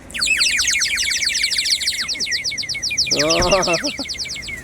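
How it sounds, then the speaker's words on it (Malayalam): Rapid, shrill warbling chirps from a water-filled bird whistle pour out continuously, close and loud, with a lower burst of bubbling trills near the end. "വെള്ളം ഒഴിച്ചാൽ കിളിന്റെ സൗണ്ട് വരും"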